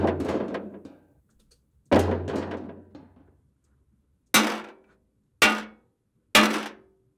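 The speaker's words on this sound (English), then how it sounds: "So here's some of the metal hollow impacts." Hollow metal objects struck hard, five impacts in all: two longer booming hits with ringing decay, then three shorter, sharper clanks, close and isolated with silence between.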